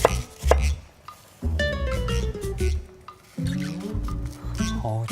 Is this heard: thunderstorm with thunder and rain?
no